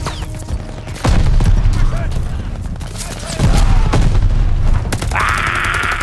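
Grenade explosions and gunfire in the Call of Duty Vanguard video game: loud booms land around one and three seconds with sustained rumbling fire between, and a player talks over it.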